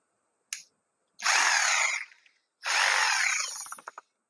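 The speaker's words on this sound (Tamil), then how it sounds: "அதனால் நம்ம ட்ரில்லிங் மிஷினில் மாட்டிட்டு" A drilling machine spinning a part for a homemade light clamp whirs in two sustained bursts of a couple of seconds each, loud and close, with a brief click before and rattling stops after.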